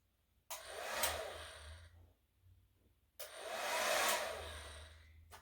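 A blow dryer whooshes on at bath time for a dog, running in two sustained bursts of about one and a half and two seconds, with a quiet gap between, close and steady.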